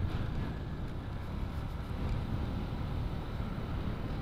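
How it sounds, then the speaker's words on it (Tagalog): Steady low rumbling wind blowing hard across the microphone at a coastal point, continuous and unbroken with no voices. "Wow, lumalakas yung hangin guys."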